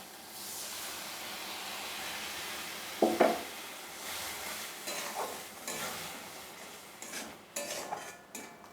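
Mixed spice paste tipped onto softened tomatoes in a pan for a kakrol (spiny gourd) curry, giving a low steady sizzle with a few spoon scrapes and clinks against the pan near the end.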